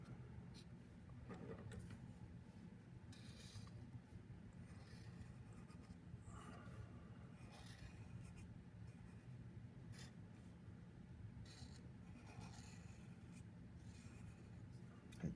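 A Sharpie marker draws long lines down paper during an art lesson, a steady soft scratchy rubbing that runs throughout at low level with faint background noise.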